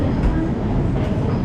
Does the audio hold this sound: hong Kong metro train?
yes